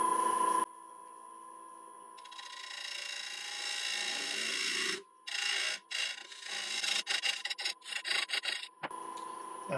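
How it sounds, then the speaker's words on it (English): Parting tool cutting a recess into an elm bowl spinning on a wood lathe: a scraping, rasping cut that starts steady and then breaks into short choppy bursts with brief gaps, under a constant motor whine. "So now back to forming my recess. So just grab my parting tool."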